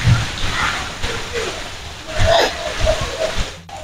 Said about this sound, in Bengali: প্রচন্ড হারে বৃষ্টি হচ্ছে।